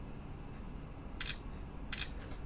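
Two short mechanical whirring bursts come from a smartphone's motorized pop-up camera sliding up, each under half a second, close and quiet against a faint background hiss.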